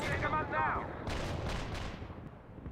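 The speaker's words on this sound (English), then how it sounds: "Commencing the barrage." An artillery barrage in World in Conflict rumbles as a low continuous roar, with several sharp bursts landing in quick succession near the middle, while a voice speaks briefly at the start.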